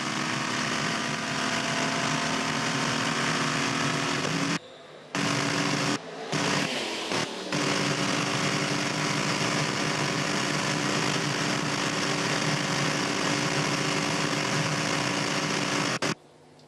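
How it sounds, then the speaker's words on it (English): Onboard an Audi diesel race car at Le Mans in 2006, a loud, continuous rush of wind with a faint engine drone beneath, broken briefly by a few short dropouts. "And the noise you hear is wind, not the engine, just a little engine noise."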